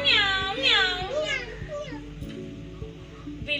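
Children's voices imitate a cat, drawing out several wavering meows in a row, loud and close, followed by some quieter chatter from the group.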